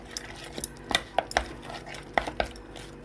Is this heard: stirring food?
yes